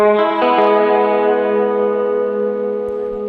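Sustained electric guitar chord, set to a hall-type reverb, rings out loud and alone, its harmonics smearing into a long, slowly decaying wash with a faint attack near the start.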